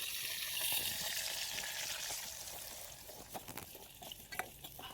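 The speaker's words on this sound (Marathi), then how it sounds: "छानशी लसणाची फोडणी दिली आहे." Garlic tempering sizzles in hot oil over a wood-fired clay stove, a close, crackling fry that spits in sharp pops and settles into a softer bubbling hiss.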